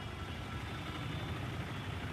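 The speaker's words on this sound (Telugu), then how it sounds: "AMB traffic situation" Road traffic near AMB mall in Hyderabad: a steady, close engine rumble of idling and slow-moving vehicles that holds evenly throughout, with no voices.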